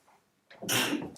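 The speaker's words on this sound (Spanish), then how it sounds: "Esto es un estornudo real como la vida misma." A single loud sneeze bursts close into a studio microphone after a brief quiet inhale, sharp and broadband, with no talk around it.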